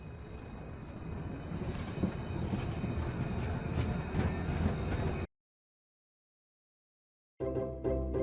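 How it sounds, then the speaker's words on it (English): An electric train rumbles past close by with rattling wheels for about five seconds; after a gap of silence, the train noise returns. "One more electric train."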